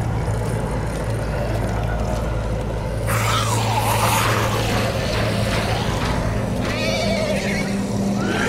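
A horse in The Walking Dead video game whinnies amid a steady low rumble, its drawn-out neigh rising and falling over a busy background with no talking.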